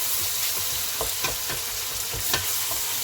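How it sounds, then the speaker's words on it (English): Tomatoes and garlic stirred in a hot frying pan, a continuous close sizzle with several light scraping strokes of the utensil spaced through it, no talk. "I'm going to add 2 tomatoes and give it a stir."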